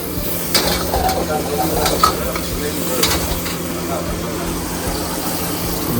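Crispy chicken stir-fried with onion and capsicum over high flame in a Chinese-style street kitchen, giving a loud, steady sizzle with scraping stirs and bursts of hiss throughout.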